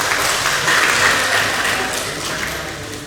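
Steady applause fills a regional parliament chamber during a plenary session, a dense, even wash of many hands clapping that fades slightly toward the end, with no speech over it.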